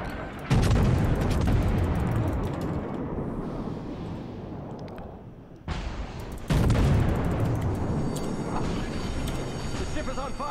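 Naval gunfire in World of Warships aboard the Kaiser battleship, loud rumbling booms that swell and cut off in two heavy bursts over a constant roar, with a voice talking over it.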